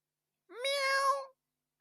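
A single drawn-out meow, likely a person imitating Buttercup the cat, rising then falling in pitch over about a second, close and clear against silence.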